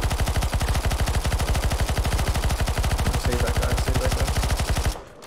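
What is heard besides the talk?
gunfire in the video game CS:GO Zombie Escape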